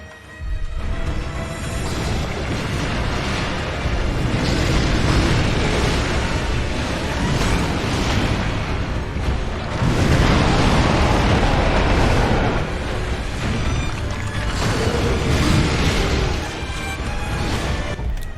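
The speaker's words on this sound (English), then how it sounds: "The firecrackers will help here." Firecrackers burst repeatedly in the video game Sekiro, a loud, dense run of booming explosions and crackling pops that continues almost without a break, with no talk over it.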